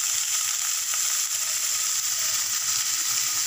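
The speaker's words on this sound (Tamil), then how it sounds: "எண்ணெய் விட்டு வெங்காயம், கருவேப்பிலை, பூண்டு, இதெல்லாம் நல்லா வதக்கி எடுத்துக்கலாம்." Onion, curry leaves and garlic sauté in hot oil, giving a steady, bright, close sizzle that runs continuously with faint stirring ticks and no voices.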